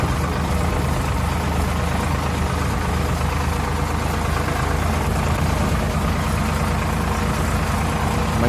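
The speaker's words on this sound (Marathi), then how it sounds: "हे बघा समोरून एक ट्रॅक्टर आलेला आहे आता" A Mahindra tractor engine runs nearby with a steady, loud, low idling rumble that holds constant throughout, with no talking.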